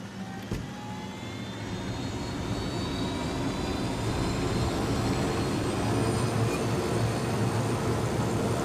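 Aircraft engine drone while piloting in Ghost Recon Wildlands, a steady broadband roar holding loud and even for the whole span, with no talk over it.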